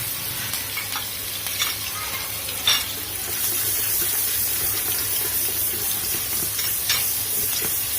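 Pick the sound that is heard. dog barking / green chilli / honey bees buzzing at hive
green chilli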